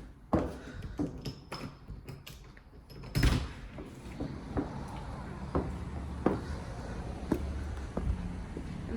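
Front door of a rental house opening, with a loud latch clack and handle rattles among scattered knocks and footsteps on a hard floor in a quiet room.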